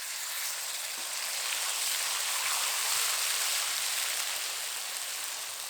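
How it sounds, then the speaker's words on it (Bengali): Spice paste fries in mustard oil in a wok with a steady, dense hissing sizzle that sounds like rain, moderately loud and unbroken for several seconds with no voices. "মশলাটা ভালো করে ভেজে নিয়েছি"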